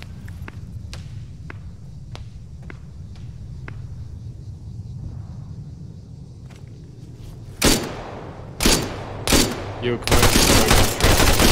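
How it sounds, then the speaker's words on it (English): In the Arma 3 video game, a VTOL aircraft strafes the ground. Sharp, evenly spaced distant shots tick over a low rumble, then a run of heavy, loud blasts and a sustained barrage follows. Someone speaks briefly. "The VTOL's strafing us."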